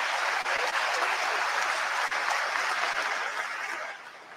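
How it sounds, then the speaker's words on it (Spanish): A church congregation applauding their new bishop at his canonical installation: dense, sustained clapping from many hands in a large hall, steady then tapering off toward the end. "aplaude emocionado a su nuevo obispo, Monseñor José Mario Bachi Tres Palacios"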